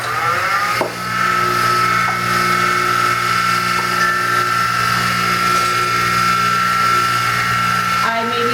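Wood turning tools being sharpened on a powered grinder, a continuous high whine that starts up within the first second and runs steadily at close range, with a faint voice in the background.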